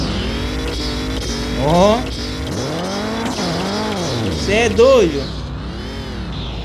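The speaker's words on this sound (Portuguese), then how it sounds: "vou lascar um corte de giro também" Turbocharged lowered car at a turbo car meet revving hard against the rev limiter, engine pitch sweeping up and down in repeated surges close by, with people shouting and talking over it.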